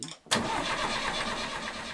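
After a brief quiet cranking moment, a motor engine catches abruptly and roars to life, then settles into a loud, steady close running rumble.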